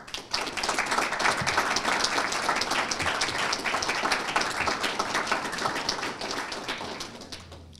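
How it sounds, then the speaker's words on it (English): Graduates at an academy graduation ceremony giving a loud, sustained round of applause, dense clapping from a large crowd that holds steady for several seconds before tapering slightly. "So if you would please give your family and friends a wonderful thank you, a rousing applause"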